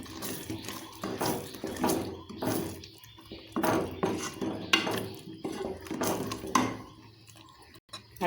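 A spoon stirs thick tomato jam in a pan on a stove at medium heat, giving repeated close scraping and clinking strokes in a steady rhythm with short pauses.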